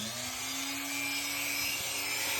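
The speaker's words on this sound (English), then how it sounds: "I'll try sanding with this." Sanding a small part for a model build by hand, a steady continuous abrasive rasp held close and fairly loud for a couple of seconds, with no talking over it.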